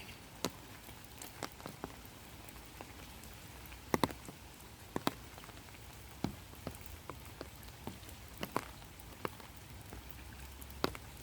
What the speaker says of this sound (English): the rain falling on the water